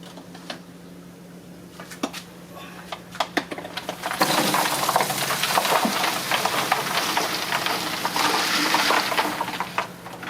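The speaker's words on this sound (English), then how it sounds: "Don't know whether you can hear it bubbling, but that's the charcoal being activated." Activated charcoal fizzes and bubbles in water while building a sand filter for a waterfall, starting as scattered clicks and pops, then swelling into a dense, continuous crackling hiss that fades slightly near the end.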